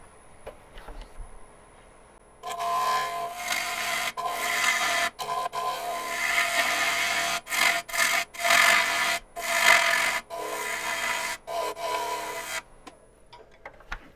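A wood lathe gouge cuts into a spinning maple crotch blank, working down into a rounded section with steady bevel contact: a continuous raspy, scraping hiss in irregular bursts with brief pauses, close and fairly loud, with no talking.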